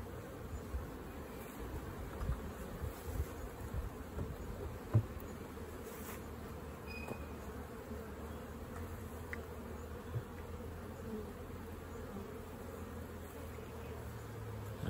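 A steady, low drone of many honey bees buzzing close by, continuous and even with no voices.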